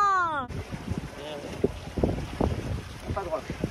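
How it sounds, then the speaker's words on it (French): Wind gusts buffet the microphone while a sailboat is rigged, a rough broadband rush with flapping and knocking from the rigging, and people talk over it. "Ah oui! Il y a du vent!"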